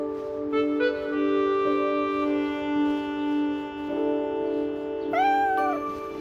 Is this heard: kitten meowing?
yes